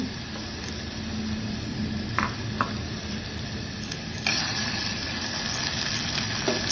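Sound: mustard seeds, cumin, asafoetida, onion and curry leaves sizzling in oil

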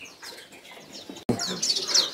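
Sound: hill prinia (ciblek gunung) chirping

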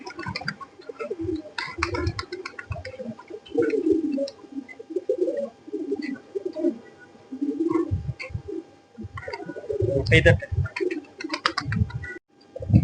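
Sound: pigeon cooing

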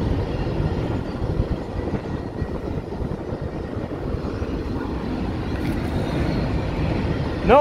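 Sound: train passing over bridge in Ogallala, Nebraska

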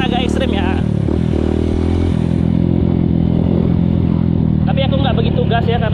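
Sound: dirt bike with Dunlop DGX 01 tires riding a trail

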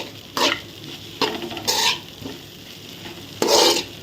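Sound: stirring poha with masala in pan for upma

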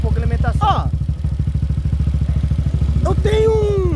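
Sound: 190cc motorcycle engine running

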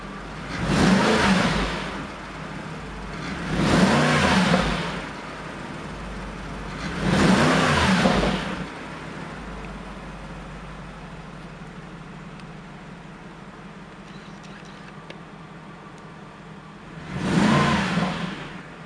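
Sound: Mercedes McLaren SLR engine revving

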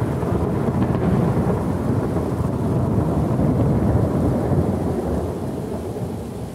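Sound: thunderstorm with thunder and rain, lightning striking a tree

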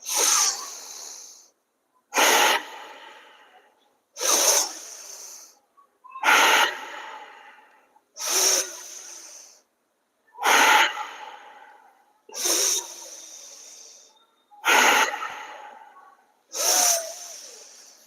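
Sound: Bhastrika pranayama: rapid forceful deep breathing in and out

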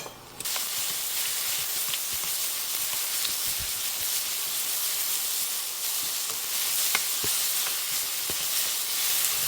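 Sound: stir-frying vegetables in oil over high heat

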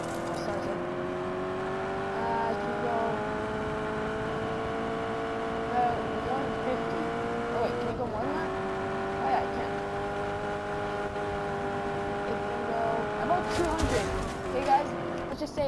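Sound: sports car engine driving fast in video game Just Cause 3

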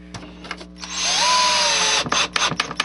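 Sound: power drill driving drywall screws

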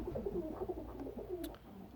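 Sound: pigeons cooing

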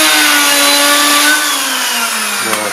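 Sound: grinding machine with magnetic chuck deburring a metal part

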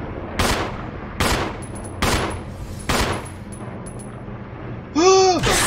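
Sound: gunshots in the video game Resident Evil

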